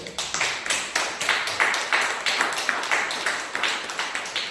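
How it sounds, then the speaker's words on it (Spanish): A church congregation claps together in a steady rhythmic beat, a run of sharp even claps repeating for several seconds at moderate loudness. "Denle un aplauso al Señor, pues."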